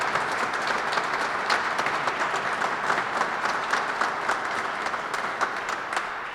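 Steady, moderately loud audience applause at a Kentucky Mountain Parkway expansion celebration, honouring transportation workers, dense clapping continuing evenly throughout with no voices over it.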